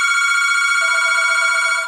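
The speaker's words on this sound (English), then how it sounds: "And that's the phone." A telephone rings with a steady electronic ringtone, a bright, sustained tone that runs loud and alone for about two seconds before cutting off.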